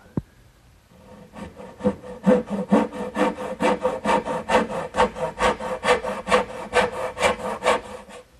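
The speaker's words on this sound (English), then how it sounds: "Now I'll finish cutting out my spinner, making the angled cuts with my little dovetailing saw" A small dovetail saw cutting angles in wood, with a long run of evenly spaced rasping back-and-forth strokes, close and distinct, that grow steadily stronger after a faint start.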